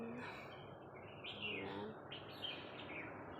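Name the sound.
birds chirping in a vegetable garden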